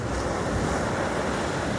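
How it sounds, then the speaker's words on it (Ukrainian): Sea waves wash steadily onto the shore in a continuous, loud broadband rush with no distinct breaks, and a windy hiss runs underneath. "А берег в свою чергу ласкає хвилі"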